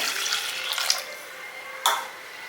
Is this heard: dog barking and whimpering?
no